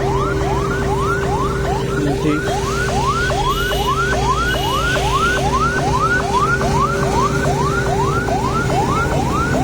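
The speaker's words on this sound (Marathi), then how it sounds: "अजून एक फायर ब्रिगेडची गाडी आली" A loud fire engine siren wails in fast, repeated rising sweeps over a steady hum of engine and traffic noise, as a fire brigade truck arrives at a burning Maruti Omni van near the Statue of Unity.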